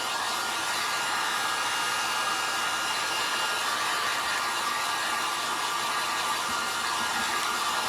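A hair dryer runs steadily and continuously at close range, drying embossing paste on a 3-D memorial sign, its broad airy whoosh holding an even level throughout with no talking.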